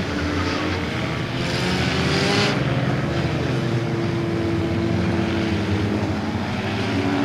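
Race cars on a dirt track during a night skid plate race, engines droning and whining at a distance, one passing with a rising and fading sweep, no talk.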